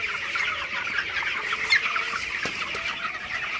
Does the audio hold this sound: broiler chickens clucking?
yes